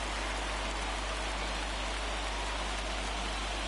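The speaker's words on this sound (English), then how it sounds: "It's pouring down rain." Pouring rain at a baseball game, a steady, dense, hissing downpour with a constant low rumble beneath it and no voices.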